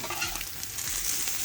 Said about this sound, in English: I add my minced ginger.